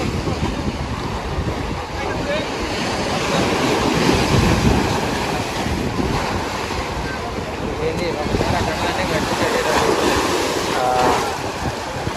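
Water rushing from the open gates of Srisailam dam, heard from a distance as a loud, continuous roar with heavy wind buffeting the microphone throughout.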